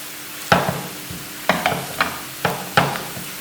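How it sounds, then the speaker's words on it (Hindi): Bursts of sharp sizzling and crackling as spices for a tadka drop into hot oil for moong dal, five quick hisses in uneven succession, close and fairly loud. "तड़का तैयार हो रहा है, देख सकते हैं आप"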